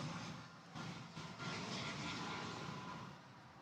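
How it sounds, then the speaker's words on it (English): An American Airlines Airbus A319 arriving at DFW Airport before sunrise, a faint, steady distant engine roar and rushing hum with no speech. "here comes a plane. It's American Flight 807 from Amarillo, Texas. It's an Airbus A319."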